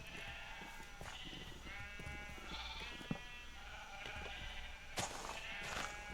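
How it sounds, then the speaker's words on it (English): Sheep bleats from a video game, where a player is building a sheep pen with baby sheep, repeating several times at moderate loudness over a steady in-game background, with a few sharp clicks. "Baby sheep, look at this."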